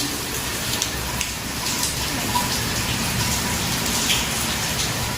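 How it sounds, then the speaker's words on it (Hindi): Steady rain falls, a dense patter of drops hitting surfaces, continuous and fairly close. "ओह माय गॉड, ये तो बारिश हो गई।"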